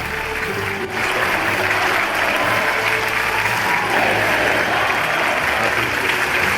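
Loud, sustained applause from a large crowd at an awards ceremony, dense clapping filling the room without a break.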